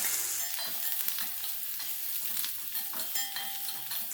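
Crushed garlic, chopped ginger and curry leaves stir-fry in a pan for a Kerala-style chicken dish, giving a steady bright sizzle with light scraping stirs throughout, close and without talk.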